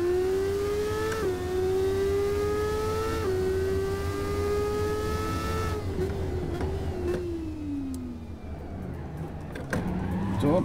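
Modded car engine in a driving video game revving hard with repeated gear-shift steps in pitch, then decelerating and fading into clicks and rattles near the end, no talk over it.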